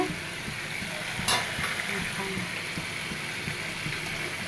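Fish curry with bottle gourd cooks in a pan on a home stove, giving a steady low sizzle with soft scraping stirs and one brief sharp clatter partway through, close and moderate in level.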